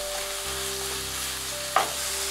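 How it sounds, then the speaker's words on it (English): Ground pork sizzles and fries steadily in a pan for miso ramen, with a soft stir or clatter near the end, close and continuous with no talking. "Add 100 grams of ground pork. Stir for 3 minutes."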